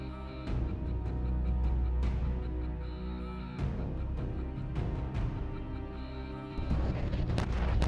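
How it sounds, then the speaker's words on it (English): Tank cannon fire, heavy booming blasts at intervals over a constant loud low rumble of battle, close and powerful, without speech. "Enemy tanks opened fire trying to break through the defense line."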